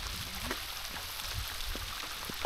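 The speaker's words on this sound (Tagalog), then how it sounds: "ang lakas ng ulan" Heavy rain falls steadily as a dense, continuous hiss, with scattered drops pattering nearby and no voices.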